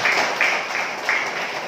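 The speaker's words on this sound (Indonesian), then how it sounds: "Coba yang mengikuti khotbah ini tepuk tangan dong," A church congregation claps steadily during a Sunday sermon in a dense, continuous patter of applause, with no voices standing out.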